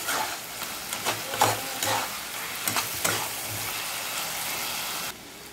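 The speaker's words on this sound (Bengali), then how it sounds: "মশলাটাকে আমি আরেকটু আলুর সাথে ভাজা করে নিচ্ছি।" Masala fries with potatoes in a pan for a Bengali tangra fish curry, a constant sizzle broken by several scraping stirs in an irregular rhythm, close and fairly clear, then dropping quieter near the end.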